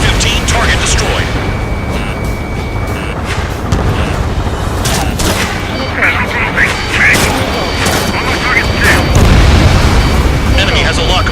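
In Ace Combat 7, a destroyed target explodes with booming blasts and rumbling bursts, mixed with scattered pops and crackles of gunfire. Radio voices talk over the loud, chaotic combat.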